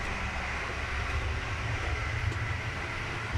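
Steady low rumble of a moving passenger train from Poland to Ukraine heard from inside the second-class carriage, a constant broadband roar with no voices.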